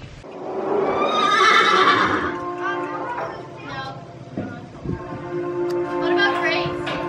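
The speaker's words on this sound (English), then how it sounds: "This is the time when we let all the horses out and they go to their field." Horses neigh and whinny loudly and close by as they are let out to their field at night, with hoof clops and other horse sounds following, and a person talks briefly in between.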